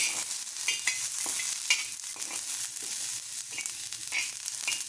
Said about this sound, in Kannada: ಇದನ್ನು ಚೆನ್ನಾಗಿ ನಾವು ಕೆಂಪಗಾಗೋಷ್ಟು ನಾವು ಹುರ್ಕೊಳ್ಳೋಣ